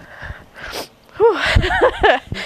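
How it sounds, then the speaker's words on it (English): A single sharp sneeze, preceded by a quick intake of breath, close and fairly loud, with no other sound around it. "don't think I've sneezed on the show yet"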